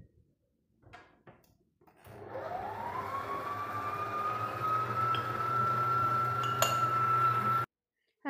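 Semolina batter with salt, fine semolina and cornstarch being stirred in a bowl, a steady whirring churn that rises in pitch and then holds for several seconds, with light clinks near the end, then stops abruptly.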